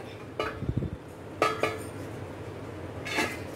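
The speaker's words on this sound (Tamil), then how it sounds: "இதை மிக்சிங் பவுல்ல கொட்டிக்கலாம்." Ground chana dal tipped from a grinder jar into a mixing bowl, giving a few distinct metallic clinks and scrapes of vessels knocking together, close and clear with no talk.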